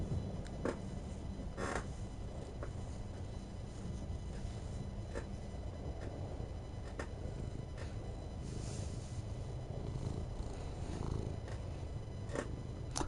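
A pet cat named Levi purring close and loud in a steady continuous rumble, with occasional soft clicks over it.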